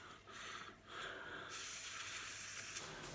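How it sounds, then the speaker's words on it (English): Compressed air sprayed onto a golf shafthead grip part before repainting: a soft airy hiss that swells into a steady, louder blast lasting about half the time. "Let's spray some air on this."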